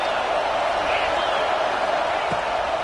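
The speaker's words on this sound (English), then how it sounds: "This crowd rising up, sensing that its defense needs some help." A football stadium crowd roars steadily as it rallies behind its defense, a continuous broad wash of noise with no distinct individual cheers.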